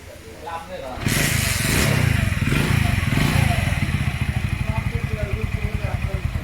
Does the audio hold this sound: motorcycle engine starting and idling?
yes